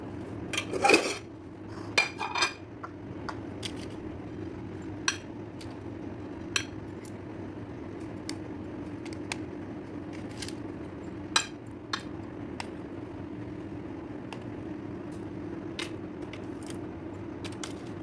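A pan of oven-baked salmon with vegetables clatters as utensils scrape and clink against it while the vegetables are lifted out, with a few sharp knocks early on and then lighter, scattered clinks throughout, close and without talk.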